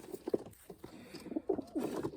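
Young sport pigeons coo in a run of soft, low, throaty calls at close range, with brief pauses between the rolling bursts and no talking.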